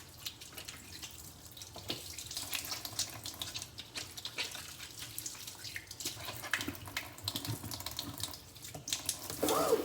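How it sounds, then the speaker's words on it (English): A kitchen tap runs steadily while hands are washed, a close, soft, hissing water flow with irregular splashes and rubbing. No talk over it. "Wash my hands."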